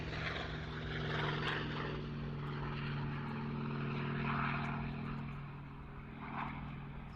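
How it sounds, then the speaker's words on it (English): A two-seat Hawker Sea Fury T20 piston-engined aircraft flies past at a flying day, its propeller engine a steady loud drone that swells and fades slightly at a distance, with no talk. "And then we've got the first of two-seat Sea Fury T20s, this one from Naval Aviation Limited"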